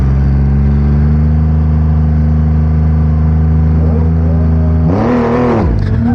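A Triumph Rocket 3 motorcycle held at about 3,200 rpm at a dragstrip: a loud, steady, close engine drone, then a sharp surge of revving near the end as it launches.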